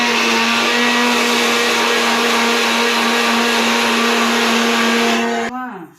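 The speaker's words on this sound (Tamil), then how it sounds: "மிக்சி சவுண்டு என்னன்னு தெரியல ஓவர் சவுண்டாக இருக்க" A kitchen mixer grinder roars loudly with a steady high-pitched motor whine for several seconds, then switches off and spins down quickly.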